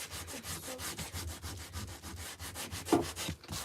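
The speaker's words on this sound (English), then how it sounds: "So I'm just sanding it more to remove more of that white." Steady hand sanding on painted wood, a rhythmic back-and-forth scratchy rasp with regular strokes, close and continuous throughout.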